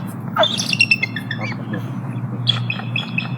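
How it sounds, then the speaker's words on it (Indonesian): Sea eagle handled up close on a keeper's arm gives a series of harsh squawking calls over a steady low hum, with several loud cries in quick succession. "Ini salah satu elang laut juga bang"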